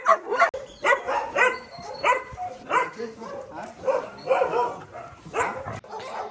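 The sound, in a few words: dog barking at animal shelter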